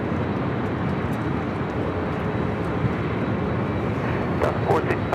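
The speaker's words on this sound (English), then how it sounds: "A Southwest flight heading to Baltimore, flight 966, 737 MAX 8, now rolling down to 24 left" A Southwest Boeing 737 MAX 8 rolls for takeoff on the runway with a loud, steady broadband engine roar, while voices talk faintly underneath.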